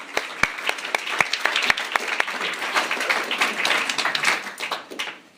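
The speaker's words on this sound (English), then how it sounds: "Let's give them a round of applause." Guests at a wedding dinner break into applause for the hosts, a few sharp distinct claps swelling into a thicker round of clapping from a small room crowd, then fading out.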